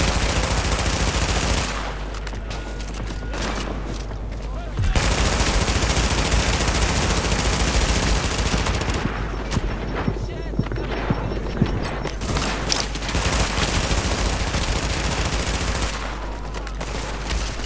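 Rapid bursts of automatic gunfire from the video game Tom Clancy's The Division, sustained and loud across most of the stretch, with brief lulls and people talking over the shooting.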